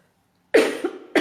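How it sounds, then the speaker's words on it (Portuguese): Two sharp, close coughs from one person, a longer harsh burst followed by a shorter one after a brief pause, with silence before them. "E nós passamos a tossir assim por alguns minutos."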